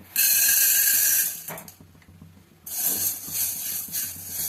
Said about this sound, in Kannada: ಮೊದಲಿಗೆ ನಾನು ಹೆಸರು ಕಾಳು ಹಾಕೊಳತೀನಿ